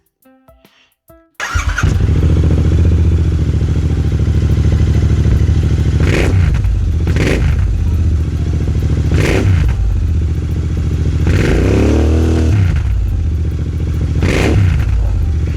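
A Royal Enfield Interceptor 650 motorcycle with an AEW TE102 aftermarket exhaust fires up after a few clicks and settles into a loud, deep, throaty idle, with several sharp revs blipping over the rumble.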